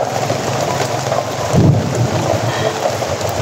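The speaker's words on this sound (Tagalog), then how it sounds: "umuulan pa rin tol" Steady rain pours down in a heavy, continuous hiss with low rumbling underneath, loud and unbroken, and no one talks.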